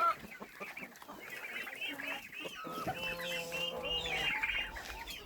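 A group of ducks chatters and quacks nearby in overlapping calls, growing busier toward the end.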